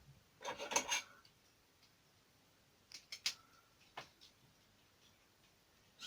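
A small round-head screw is driven into a Terminator model hand, giving faint dry scraping and clicking in a short burst, then a few scattered ticks after a pause in an otherwise quiet room.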